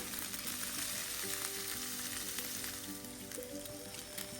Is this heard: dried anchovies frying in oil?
yes